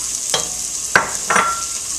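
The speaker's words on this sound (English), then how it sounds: "We melted the tablespoon of butter, and we're going to put in a half cup of celery" Celery sautéing in melted butter at the bottom of a large Dutch oven produces a soft, steady sizzle broken by three brief scraping or clinking stir sounds.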